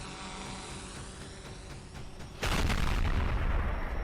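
After a stretch of steady rumbling, a sudden loud blast erupts and rolls on as a heavy, sustained roar.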